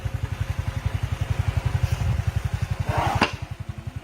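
A motorcycle engine thumps in a fast, even rhythm as it rides along, close and steady, with a brief rushing whoosh past the microphone near the end.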